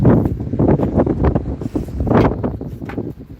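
Strong wind buffets the microphone outdoors where pigeons are being flown, low rumbling gusts swelling and dropping in uneven surges, loud and close throughout.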